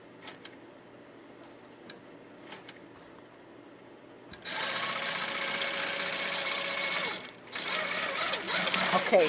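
An embroidery machine stitches a crosshatch pattern on a quilted baby project, starting after a quieter stretch and running loud and steady with a rapid mechanical stitching drone and a brief pause near the end.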